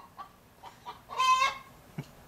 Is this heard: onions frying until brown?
no